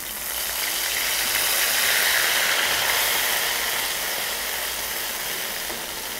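Black cumin sizzles in hot oil left from frying pointed gourd, a steady, fairly loud hiss that swells and eases slightly, with no talking.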